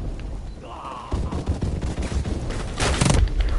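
Grenade blasts and gunfire in Call of Duty 4 Remastered multiplayer, a burst of repeated thumping booms and shots that grows louder in the second half of the clip.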